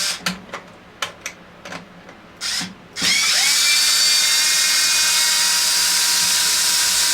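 A handheld power drill backs screws out of a Traxxas X-Maxx RC car: several short clicks and brief bursts, then a sustained close, loud whine running for several seconds, no voices.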